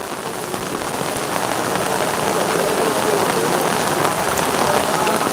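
Heavy rain pours steadily at the Kottiyoor temple, a dense, loud, unbroken hiss filling the whole stretch, with faint voices underneath.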